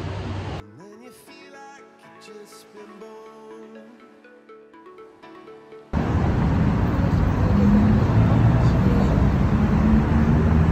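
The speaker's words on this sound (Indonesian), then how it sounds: "Oke, itu busnya udah datang." A city bus arrives at a Bangkok bus stop near Ekamai terminal. Soft music plays at first, then a loud, steady engine and traffic rumble takes over abruptly and continues to the end.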